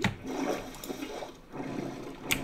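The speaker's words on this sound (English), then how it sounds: "And water source block." Water flowing from a water source block in the game Minecraft, a continuous rushing gurgle that swells and dips over a couple of seconds.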